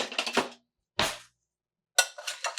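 A spoon stirs frozen broccoli in a dish, making three short bursts of close, clattering scrapes and clinks separated by silent pauses.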